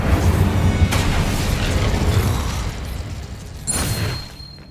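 Fiery spell blast from the Incendio charm in Hogwarts Legacy, a loud, dense rumbling burst with two sharper whooshing flares, continuous for several seconds with no talking.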